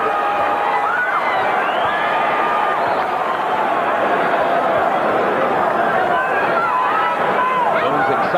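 Boxing arena crowd roaring and cheering as Roy Jones Jr. lands power shots against Mike McCallum in a WBC light heavyweight title fight, a dense, loud, sustained swell of voices with commentary running over it.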